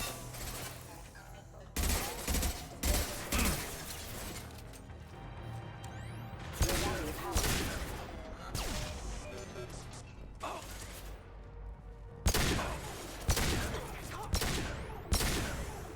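High impact gunshots in the video game Mass Effect 2, a series of loud, sharp blasts in irregular clusters with mechanical clatter between them, and some faint talk.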